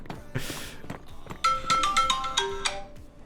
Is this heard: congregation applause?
no